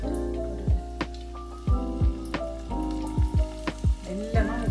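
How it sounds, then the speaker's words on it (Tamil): Fish cutlets for a spicy Jaffna-style Sri Lankan snack fry in hot oil, sizzling steadily up close with a crackling bed of bubbles and a series of sharp pops and spits scattered throughout. "இனி பொரிக்கிறதுக்கு எண்ணெய் நன்றாக கொதிச்சுட்டு போல இருக்குது"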